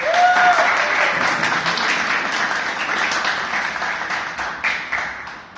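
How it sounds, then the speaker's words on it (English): An audience at a Toastmasters club meeting applauds the participants, producing loud, steady, continuous clapping that stays strong throughout and tapers slightly near the end. "Round of applause for all the participants."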